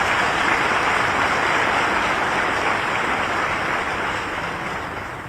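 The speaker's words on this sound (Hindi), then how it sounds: "एक बार आप भी तालियां बजा के पूरी टीम का स्वागत कीजिए।" An audience at a government Jal Jivan Mission workshop in Bhopal bursts into loud, dense applause that holds steady and then gradually fades toward the end.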